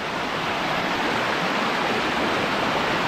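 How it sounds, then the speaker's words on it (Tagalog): Loud, steady roar of rushing water from a waterfall over rocks, broadband and continuous with no letup, close by and filling the whole scene. "Malakas yung tubig."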